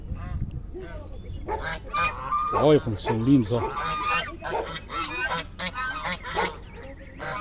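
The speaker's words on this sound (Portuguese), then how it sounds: "Quantidade de pato, ganso, pombo, marreco," Geese and ducks at a Brazilian farm pond honk and quack repeatedly in a noisy, overlapping flock, mixed with other fowl, while a person talks over them close to the microphone.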